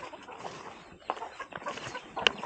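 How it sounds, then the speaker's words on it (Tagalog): Mother hen clucking inside a coop on a Filipino farm, soft irregular clucks at close range over faint rustling background. "Puntahan natin yung inahin dito sa kulungan."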